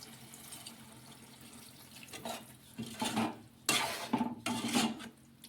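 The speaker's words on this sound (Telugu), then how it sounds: "ఎంత గ్రేవీ కావాలో అన్ని వాటర్ అయితే వేసి ఉడికించుకుందాం" Water splashes into a pan for okra masala gravy curry in a few short bursts, with light clanks of metal cookware between them, close by and fairly quiet.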